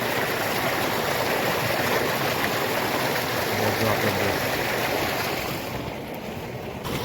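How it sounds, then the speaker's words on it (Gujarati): Water gushes steadily from a borewell pipe in a loud, continuous rush that eases slightly near the end. "આપણા બોરનો બંબો કેટલો મસ્ત પડાય છે"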